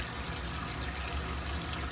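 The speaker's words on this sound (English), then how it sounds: "this faucet is kind of funny." A loose, flimsy bathroom faucet with a missing screw runs water in an apartment rental, giving a steady, continuous rushing hiss that stays even throughout, with no talk.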